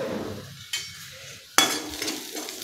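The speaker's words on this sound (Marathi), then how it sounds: "हळद चांगली परतून घ्यायची आहे." Onion is sautéed with a pinch of turmeric in a pan for Kolhapuri misal, a soft close sizzle broken by two sharp scraping stirs of a spoon against the pan.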